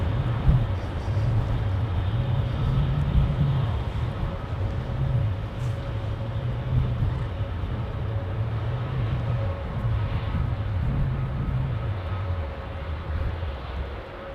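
A jet airliner departs from runway 09, producing a loud, continuous, deep rumbling roar with a steady low drone that holds throughout and fades slightly at the end.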